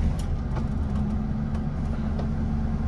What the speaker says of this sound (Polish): Odpalam auto.